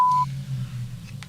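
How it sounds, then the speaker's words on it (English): An answering machine gives a single short, clear electronic beep at the start, followed by faint low room hum and quiet line noise. "Leave a message after the beep."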